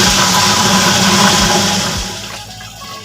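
A wet grinder grinds soaked rice into idli and dosa batter nearby, with a loud, continuous churning whir and rhythmic low thumps that ease slightly toward the end, with no talking.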